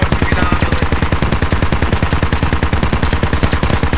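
Sustained rapid machine-gun fire aimed at infantry in the military shooter Squad, with an even, fast rhythm of shots, very loud and close, continuous throughout with no talk.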